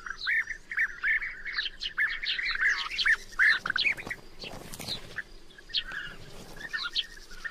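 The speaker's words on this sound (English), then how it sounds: "Bee eaters are gregarious birds." Bee-eaters calling in a colony in Serbia, a busy chorus of repeated liquid, rolling chirps overlapping close by, steady throughout with a few brief rustling bursts.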